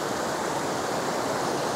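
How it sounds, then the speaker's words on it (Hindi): A fast-flowing mountain stream roars in the Pangi valley of Chamba, a loud, dense, unbroken rush of water that fills the whole moment from close by, with no voices over it. "पानी का शोर देखो कितना है"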